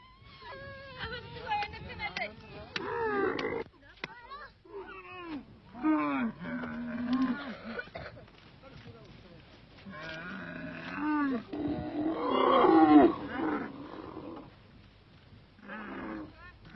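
Camels at a desert camp groan and bellow while being hobbled, their harsh, gurgling calls rising and falling in several bursts, loudest near the end, interleaved with tonal vocal sounds.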